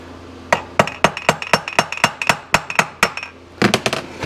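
A hammer whacks the engine case of a Suzuki RM250 C2 motorcycle apart, a steady run of about fifteen sharp metallic blows, close and loud, ending in a quick flurry.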